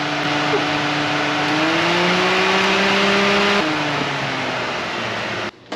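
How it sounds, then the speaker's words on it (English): Steady broadband whir of an electric radiator fan on a Grand Wagoneer with a 360 engine, running continuously on high, loud and close, with a slight pitch shift midway before it cuts off near the end. "Let's go check the fan. Make sure she is running on low."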